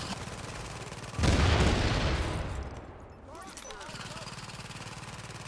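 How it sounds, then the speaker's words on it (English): An enemy turret in The Division fires a single loud sustained burst of rapid shots lasting about two seconds, then game ambience returns quieter. "Enemy turret."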